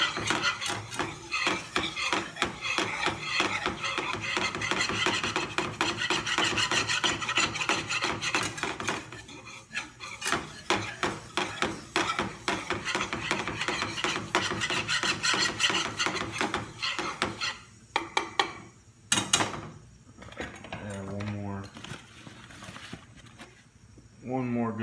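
Flour mixture stirred constantly in a pan, a steady scraping and rubbing of a utensil against the pan that runs throughout with frequent small clinks, under someone talking.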